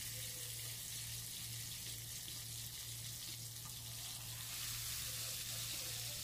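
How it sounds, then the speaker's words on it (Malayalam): Stuffed squid frying in a pan of oil gives off a steady, unbroken sizzle and crackle at a moderate level, with no voices. "അതിലേക്ക് കുറച്ച് ഓയിൽ ഒഴിച്ചിട്ടുണ്ട് ഇനി ഇത് ഫ്രൈ ചെയ്തിട്ട് എടുക്കാം"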